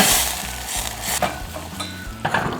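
An orange juice glaze mixture bubbles and sizzles in a hot pan, loud and close, with steady frying crackle and a few sharper spattering bursts, and no voice over it.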